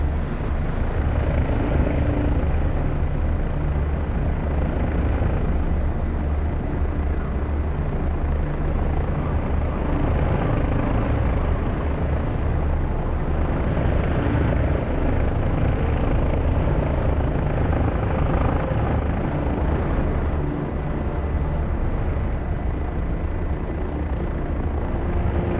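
Steady, loud helicopter rotor and turbine drone from a video game flight simulation, a continuous dense whir that holds alone for the whole stretch with no voices.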